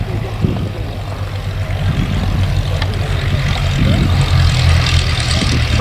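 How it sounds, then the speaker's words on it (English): A vintage Miles Gemini propeller aeroplane comes in to land over fields at an air show, a droning engine rumble that grows slightly louder, with some voices faintly beneath. "What a lovely sight, a beautiful Miles aeroplane coming in over golden fields."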